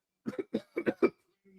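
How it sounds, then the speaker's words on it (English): A short burst of several harsh, close coughs in quick succession, followed by a faint throaty sound. "Sorry for the cough, everyone. I've got a stress cough."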